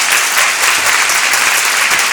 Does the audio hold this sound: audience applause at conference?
yes